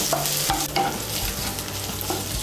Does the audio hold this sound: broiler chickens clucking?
no